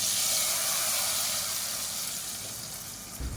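Hot spiced tempering poured over green gram sambar, giving a steady, close sizzling hiss that holds loud throughout and eases slightly near the end.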